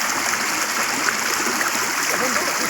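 Rainwater runs steadily in a village during the first monsoon rain, a constant broadband rushing and trickling wash heard close and unbroken with no one speaking.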